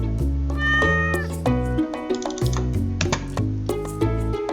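A cat in Stardew Valley meows several times in quick succession, each call bright and clear, close and loud with no talk over it.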